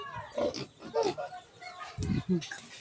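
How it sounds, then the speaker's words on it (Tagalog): Short grunting oinks from a nearby pig in its pen, mixed with people chatting and reacting over it. "Sinagot ka ng baboy."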